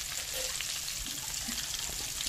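Stuffed eggplants sizzling in hot oil in a pan, a soft, continuous frying hiss close by and fairly quiet, with no talking.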